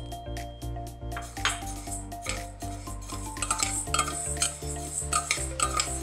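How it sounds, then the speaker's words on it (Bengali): Moong dal frying in oil in a pan, with repeated close scraping and clinking of a utensil against the metal over a low sizzle, in busy irregular strokes and no talk. "আড়াইশো গ্রাম ডাল আমি ফ্রাই করে নিচ্ছি"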